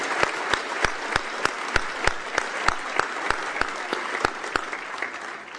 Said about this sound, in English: please give them another great big round of applause and thank you.